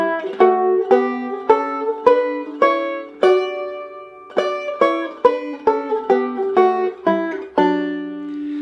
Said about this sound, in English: we're going to harmonize against it with a sixth interval